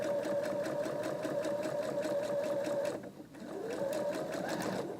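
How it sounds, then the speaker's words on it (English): Sewing machine running fast along a seam line, a close, steady whirring hum of stitches that dips briefly partway through and then picks up again to finish the seam. "I'm going to go here and just sew that together like that"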